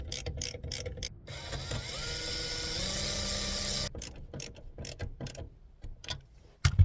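Power drill whirring through holes for a campervan curtain rail, then a long steady drilling or screw-driving run that slows near the end, followed by short clicks and ratcheting bursts from driving screws, close up with no talk.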